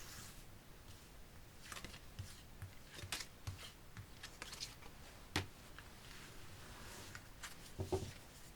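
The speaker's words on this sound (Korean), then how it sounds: "카드를 뽑아보겠습니다." Tarot cards shuffled and drawn at close range, a soft steady rustle punctuated by irregular crisp snaps and flicks, quiet and unaccompanied by talk.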